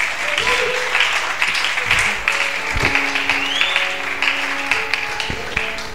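A church congregation claps steadily in sustained, fairly loud applause, with a few sharper taps and occasional voices rising within the crowd.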